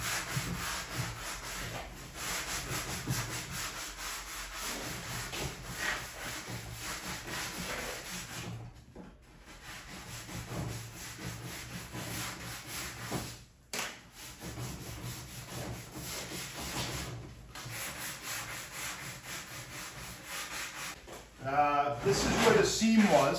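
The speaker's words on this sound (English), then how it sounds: "We're just going to lightly go over the edge, and then I'll take some sandpaper" Sandpaper lightly worked along the edge of a wooden lift-top coffee table gives a steady, close rasping scrape in long continuous strokes with brief pauses, while a person talks over it.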